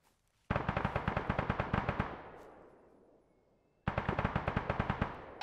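Automatic gunfire in a war simulation video game: two loud, close bursts of rapid, evenly spaced shots, each about a second and a half long, separated by a ringing echo that fades away.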